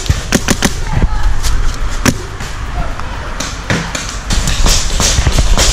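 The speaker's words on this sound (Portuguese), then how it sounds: "Até eu que tô filmando, tô sendo alvejado aqui. É muito disparo." Paintball guns firing rapidly during an outdoor paintball game, with sharp irregular pops and impacts close by, some shots landing near the camera, over constant background noise and a brief voice.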